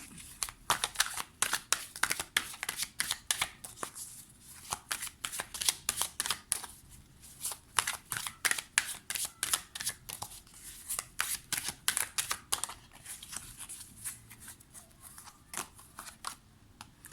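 Oracle cards being shuffled by hand, a fast run of crisp, papery riffles and flicks repeating steadily throughout, close and fairly quiet with no talking.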